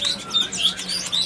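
A female Medan magpie-robin (murai) chirps in a shop, giving a quick series of about five sharp, high tweets, close and clear with no voices.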